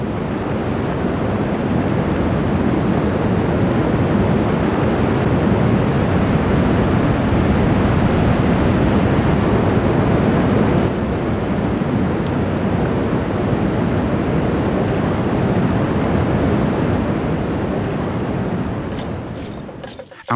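The turbulent Santa River rushes through Peru's Pato Canyon in a loud, unbroken roar of churning water, steady for about twenty seconds, with no talk.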